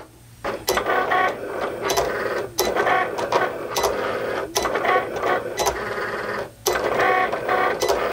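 A Cricut cutting machine cutting everyday iron-on vinyl on a mat, a loud close mechanical whir from the carriage moving in repeated bursts, each separated by brief clicking pauses.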